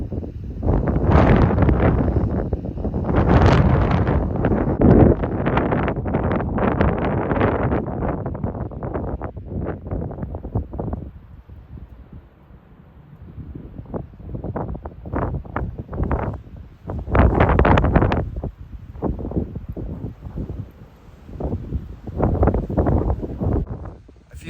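Strong desert wind during a West Texas windstorm in Big Bend, loud buffeting gusts battering the microphone in long surges separated by calmer lulls.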